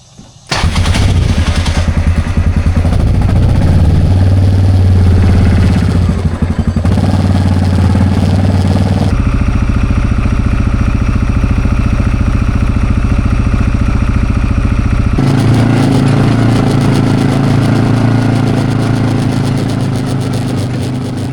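A four-wheeler engine runs close by and loud, revving and idling in steady stretches for about twenty seconds, its rumbling note changing pitch as the throttle shifts, with a faint clatter over it and no voices.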